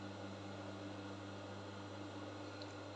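A sewing machine runs steadily while stitching bias tape on a cowl abaya, giving a continuous low motor hum with no pauses. It is fairly faint and there is no talking.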